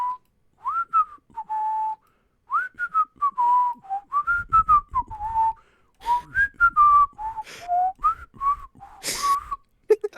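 Melodic whistling from the video game Yakuza 3 runs in several short, tuneful phrases with brief pauses. It is fairly close and clear, with occasional bursts of background noise and no talking.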